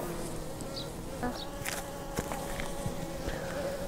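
Honeybees buzz steadily around a shallow autumn hive feeder, a close, continuous insect drone with occasional louder passes and faint knocks underneath, no voices.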